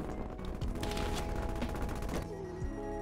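Rapid automatic fire from an XM4 rifle in Call of Duty Cold War crackles in dense, loud bursts for about two seconds, then eases into quieter game ambience.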